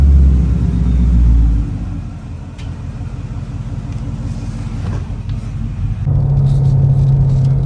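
A Ford Mustang GT S550 running an E85 BAMA tune gives a steady, deep engine rumble while driving. It dips slightly in the middle, then swells into a louder, fuller drone near the end.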